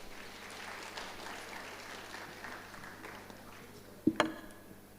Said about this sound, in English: Can we give Osun State another round of applause?